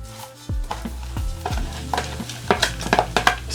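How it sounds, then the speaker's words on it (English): Three cups of rice stirred into a tomato mixture in a pan while making Southern red rice: a series of spoon knocks and scrapes against the pan, growing busier and more clattery toward the end, with no talking. "so now we're going to go in with our rice"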